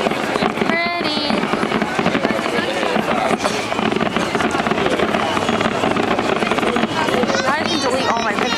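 Fireworks burst over Florence for the San Giovanni celebration, a dense, continuous crackle and boom with whistling rockets, heard loud and close while a crowd talks and cheers around.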